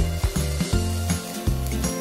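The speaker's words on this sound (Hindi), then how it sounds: "थोड़ी सी आंच बढ़ाइए और इसको अच्छे से भूनिए।" Samosa filling of soya chunks and boiled potato roasting in a pan over raised heat, giving a soft steady sizzle with repeated scraping and stirring knocks throughout.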